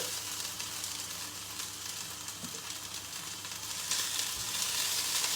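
Chicken breasts searing in a hot pan give off a steady, close sizzle and crackle that holds constant throughout, swelling a bit louder near the end.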